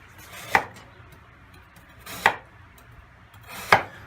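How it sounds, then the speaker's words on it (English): Knife chopping lotus root on a cutting board, three separate crisp cuts spaced about a second and a half apart, close and clear over a quiet kitchen. "And now we're going to cut it into small pieces"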